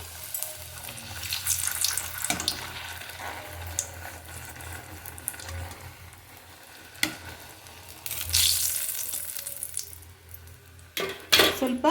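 Puri dough for pani puri drops into hot oil and fries with a bubbling sizzle that swells in bursts and fades, close by, with scattered clinks and splashes.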